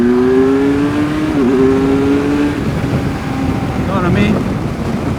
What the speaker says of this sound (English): the drop a gear and disappear factor that you get with a 1000cc sport bike